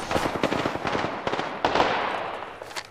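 Rapid automatic gunfire in the video game Apex Legends, dense crackling bursts of shots, some near and some farther off, continuing throughout without pause.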